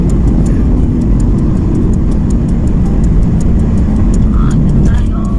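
A loud car engine passes on a road in Pangasinan, a steady dense rumble that stays strong throughout, with people talking over it.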